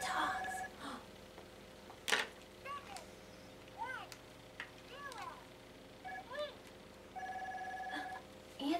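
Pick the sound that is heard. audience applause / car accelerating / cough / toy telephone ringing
toy telephone ringing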